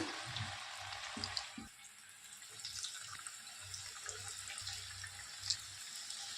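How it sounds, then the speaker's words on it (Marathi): Chakli frying in hot oil gives a steady, close sizzle that runs throughout, with a few brief crackles and pops over the bubbling. "असं मस्त भाजायला आली आपली चकली"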